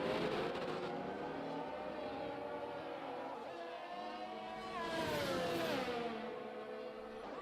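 An Alfa Romeo Formula 1 car in a racing video game at the Portimao circuit, its high-pitched engine whine rising and falling as it sweeps past, with another car's engine overlapping, continuous and fairly loud throughout.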